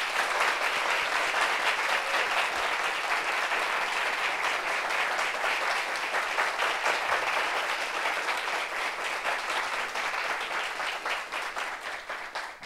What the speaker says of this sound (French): c'est Bafrou Joseph, on applaudit pour lui